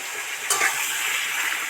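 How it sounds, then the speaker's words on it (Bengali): Mixed vegetables with tomato pieces frying in a pan for a sweet pumpkin and prawn curry, giving a steady, close broadband sizzle with a brief stir or clatter near the start. "সবজিগুলো মোটামুটি ভাজা ভাজা হয়ে এসছে"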